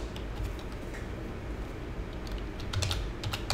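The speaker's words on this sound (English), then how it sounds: "Now we're going to type in notepad identifiers.java." Typing on a computer keyboard in Notepad: a steady run of soft key clicks at close range, with a small flurry of sharper taps near the end and no talk.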